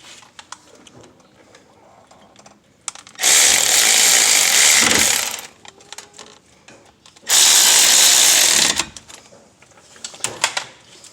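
A power tool tightens brake caliper bolts on a 2014 Toyota Highlander during a front brake job, firing in two loud, steady bursts of about two seconds each, separated by quiet clicks and handling noises nearby.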